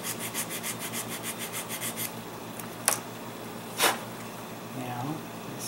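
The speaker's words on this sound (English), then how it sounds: "sand that some more." Hand sanding of a plastic King Ghidorah model kit part: about ten quick, even back-and-forth strokes close up, then a pause broken by two sharp knocks or puffs of air.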